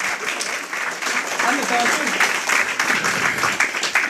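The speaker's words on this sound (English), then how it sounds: "Give her a round of applause." Audience applause at a town hall meeting, steady clapping from a crowd that holds for about four seconds with faint voices mixed in.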